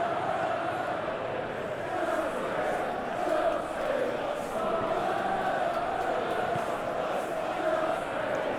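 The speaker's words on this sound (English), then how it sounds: "Crowd appreciates good football all round there." Stadium crowd in a PES 2021 Chelsea vs Arsenal match simulation, a steady, distant roar of murmuring and chanting fans with mild swells, no distinct cheers, continuous throughout.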